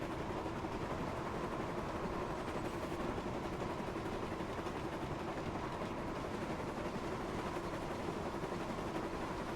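Steady steam train rumble and chugging from the Thomas & Friends: Wonders of Sodor video game, a continuous dense mechanical roar with faint rhythmic clatter, alone without talk.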